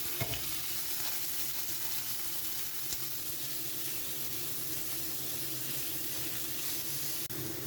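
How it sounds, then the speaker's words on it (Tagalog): Sliced meat and bitter gourd sauté in a pan, giving a steady, close sizzle and crackle throughout, with occasional stirring clinks and one sharp utensil knock near the end. "Igisa natin itong ampalaya."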